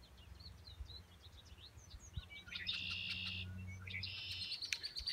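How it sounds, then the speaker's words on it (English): A towhee sings outdoors in the morning with buzzy, trilled phrases, fairly faint against light birdsong and low background rumble. "We had a towhee here all morning. It's got a really cool sound. Drink your tea."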